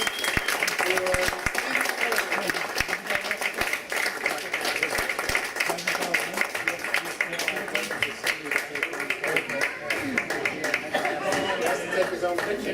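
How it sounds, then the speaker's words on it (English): A crowd applauds steadily at an awards ceremony during a Hall of Fame induction, with dense clapping throughout, scattered chuckles and chatter under it, and a few louder nearby claps. "How about a nice round of applause for"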